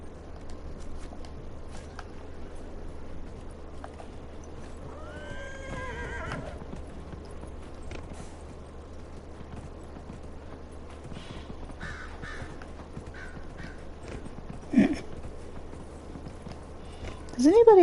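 A horse in the video game Dragon Age whinnies once amid a low steady hum, with a brief thud and scrape later; no hoofbeats of a gallop stand out clearly.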